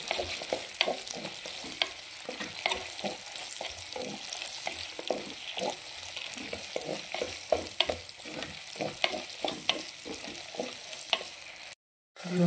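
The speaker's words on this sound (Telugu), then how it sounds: "క్యూబ్స్ లాగా కట్ చేసుకున్న ఆనియన్స్ వేసేసుకుంటాం. మంచిగా ఫ్రై అవ్వాలి, ఆనియన్స్ మంచిగా ఫ్రై అవ్వాలి." Cubed onions frying in a pan, a steady close sizzle with frequent scraping and stirring clatters throughout, briefly cutting out near the end.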